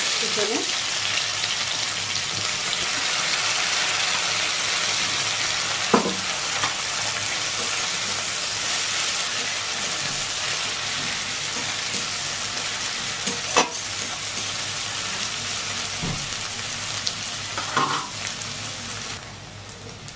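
Onion sizzles in hot oil with cumin, dried red chili and bay leaf, a loud, continuous frying hiss with a few sharp stirring scrapes scattered throughout; no talking.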